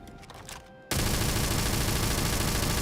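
Sustained rapid automatic gunfire with non-exploding rounds in the game Starfield, a dense loud unbroken burst that starts abruptly after a brief quieter lead-in and continues to the end.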